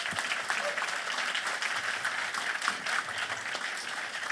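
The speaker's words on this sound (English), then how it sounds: "I love coming up while the applause is still going" Steady audience applause at a talk on politics and religion, a dense continuous patter of many hands clapping at moderate level without a break.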